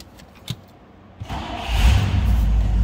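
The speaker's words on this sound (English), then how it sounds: "let's fire this up and check out that engine bay." A few clicks and a short crank, then a 1960 Pontiac Bonneville's 389 engine catches and settles into a deep, loud, steady rumble.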